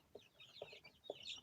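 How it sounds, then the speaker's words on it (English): Chickens on an off-grid homestead cluck faintly in the background, a few soft rising calls spread across the moment with a steady outdoor hush beneath. "chickens. You can hear them in the background."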